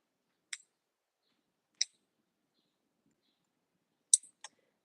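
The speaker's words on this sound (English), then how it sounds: "So I'm clipping my nails." Fingernails being cut with nail clippers, long nails trimmed before applying press-ons: three crisp, isolated clicks with a quick double snap near the end, close and fairly quiet against silence.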